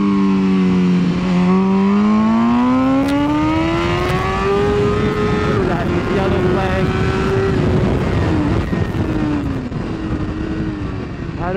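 A BMW S1000RR motorcycle accelerates hard through a chicane at Ridge Motorsports Park, heard onboard: a loud, close engine whine climbs in pitch, then holds high and wavers as the throttle is worked, with wind roar underneath.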